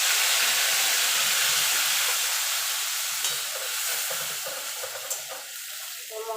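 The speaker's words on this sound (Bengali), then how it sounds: "মশলাটা একটুখানি নাড়াচাড়া করে নেব মিনিটখানি" Spice paste fries in oil while being stirred in a pan for a chicken curry, a steady broad sizzle with soft scraping stir strokes, fairly close and continuous without talk.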